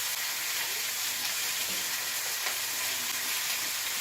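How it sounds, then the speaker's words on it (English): Bacon sizzles steadily in a frying pan for an Elvis sandwich, a close, dense crackling hiss that runs on without a break and with no voices. "Alright, that bacon's really sizzling."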